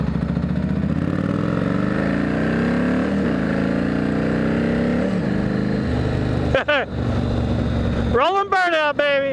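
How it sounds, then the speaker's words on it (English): A motorcycle doing a rolling burnout roars steadily, its engine pitch rising and falling as it revs hard, with a couple of sharp tire squeals near the end. "Rolling burnout, baby. Rolling burnout."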